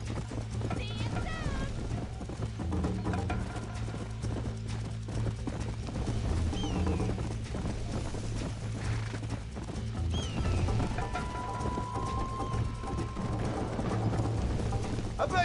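A horse galloping in Red Dead Redemption, a steady rhythmic clip-clop of hooves with a whinny, over continuous game music and sound effects, with speech from in-game characters over the top.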